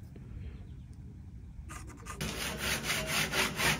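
Hand saw cutting about an inch off the corner of a wooden treehouse yoke, a quiet scrape at first, then steady rhythmic back-and-forth strokes close by, loud and alone.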